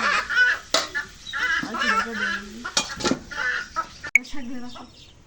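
Chickens cluck in short, uneven bursts close by at a rural home. A person talks over and between the clucks.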